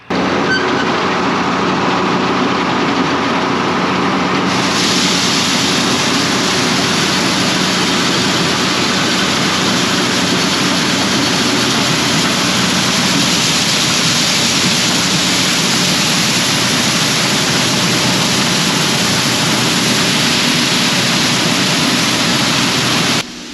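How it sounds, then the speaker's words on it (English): A tractor-driven PTO feed grinder runs steadily as an auger feeds corn from a grain bin into it, a loud continuous roaring grind that rises in intensity partway through and holds unbroken. "So basically what's going on here is the corn is getting run out of the bin and into this auger here, which is putting it into the feed grinder."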